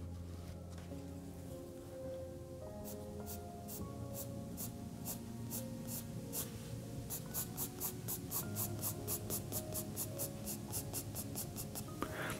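A pencil cross-hatches shading on paper in a beginner drawing lesson, producing quick, rhythmic scratchy strokes that start sparse and become steady and regular, close and fairly quiet over a faint musical hum.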